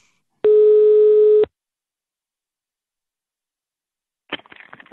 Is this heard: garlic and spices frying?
no